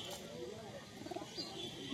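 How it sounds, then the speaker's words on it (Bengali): Pigeons coo softly at a crowded pigeon market in Rajshahi, Bangladesh, faint bird calls under nearby talk and market bustle. "এখানে ভালো ভালো কবুতর আছে।"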